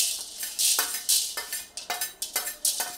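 Whole spices such as cinnamon, pepper and cloves dry-roasting in a pan for masala chai powder, with a quick run of metallic scrapes and clinks from stirring, close and rhythmic, with no talking.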